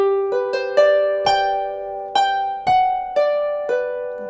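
Solo harp plays the opening bar of a tune: about nine clear plucked notes, close and ringing, each decaying before the next, with no voices.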